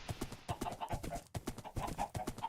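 Horse hooves in Minecraft clip-clopping along at a quick, even trot, a close and steady run of hollow knocks with a brief pause midway.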